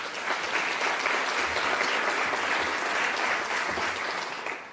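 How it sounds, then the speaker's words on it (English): Steady applause from an event audience greeting the Minister for the Arts at a national arts agency launch, a dense, even clapping wash holding for several seconds with no talk over it. "You can applaud the minister, but no one else,"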